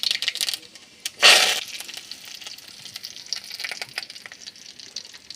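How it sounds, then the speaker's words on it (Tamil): Mustard seeds hit hot oil for a mint-coriander chutney tempering: a loud burst of sizzle, then a steady crackle and spatter that fades, close up, with no talking. "எண்ணெய் காஞ்சிச்சுப்பா, கடுகு போட்டுக்கலாம்."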